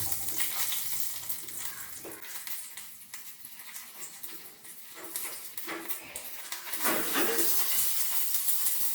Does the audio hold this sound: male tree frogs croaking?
no